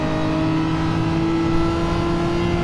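Race car engine in a video game revving hard through a corner, a loud steady whine with a constant pitch held throughout, no voices.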